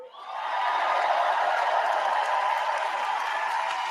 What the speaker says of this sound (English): No one knows what the fuck he just said and they're cheering.